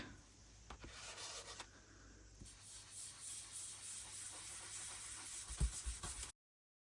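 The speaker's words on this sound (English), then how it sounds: "Let's try a little bit of green distressing, see what that looks like." Green distress ink is blended onto tracing paper with soft, close rubbing strokes, a faint continuous swishing that rises and falls gently over several seconds.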